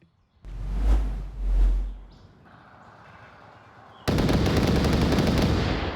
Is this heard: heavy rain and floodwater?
no